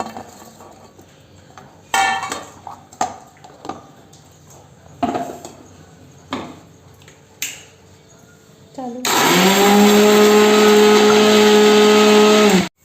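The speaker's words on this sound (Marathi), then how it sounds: "आता आपला मसाला झाला आहे दळून" A kitchen mixer grinder grinding wet spice paste with coriander, ginger and garlic roars loudly and steadily for about four seconds at the end, after a stretch of scattered clinks, taps and handling sounds.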